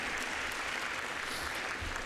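Audience applause at a youth-focused supply chain management workshop, a steady wash of many hands clapping at moderate volume with no voices over it.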